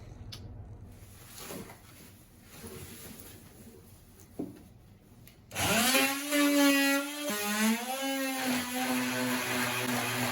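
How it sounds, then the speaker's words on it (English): Power tool cutting teak slabs off plywood aboard a sailboat, starting after some quieter handling noises, then a loud whining tool running continuously with its pitch rising and dipping under load. "So I'm trying to cut off the teak slabs from the plywood."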